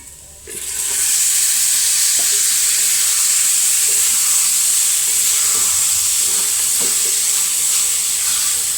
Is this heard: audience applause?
no